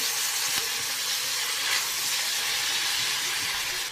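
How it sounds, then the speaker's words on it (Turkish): Minced meat and chopped onions fry together in a pan with a steady, loud hiss of sizzling, broken by a few soft scrapes as the mixture is stirred; nobody speaks. "Ara ara sürekli karıştırarak şöyle 3-4 dakika kıymamızla soğanı birlikte kavuruyoruz."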